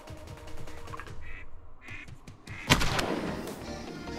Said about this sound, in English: Two ducks fly over my head, they make a few passes, and then they dump right into the decoys.